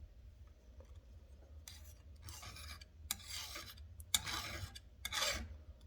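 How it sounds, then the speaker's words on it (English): Flat file scraped over the hardened steel raker gauge on a chainsaw chain makes several short, gritty rasping strokes at irregular intervals, close and fairly quiet over a low background hum. "That's just the file skidding across the raker gauge."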